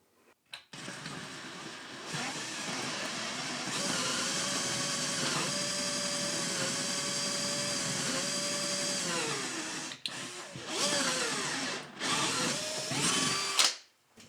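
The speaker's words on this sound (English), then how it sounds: "Always hurts a little bit to drill into a freshly painted wall." A power drill drills into a freshly painted wall, whining steadily for several seconds, its pitch shifting slightly under load, then stops and restarts in short bursts near the end.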